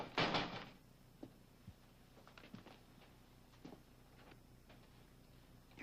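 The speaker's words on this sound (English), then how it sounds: "close the door, will you?" An indoor door shuts with a sharp, fairly loud knock at the start, followed by a few faint scattered thuds and taps in a quiet room, with no talking.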